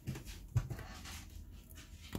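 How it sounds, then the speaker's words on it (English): A fretting puppy whimpers and pants in short uneven bursts, with one brief louder yelp-like accent near the start; the sounds are faint and close. "Man, that puppy is just fretting."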